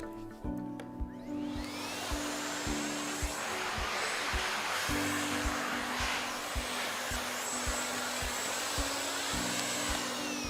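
A Miele Complete C3 vacuum cleaner fitted with an upholstery nozzle runs on an armchair, giving a loud, steady motor whine with a broad airy rush and repeated low thumps as the nozzle bumps across the fabric.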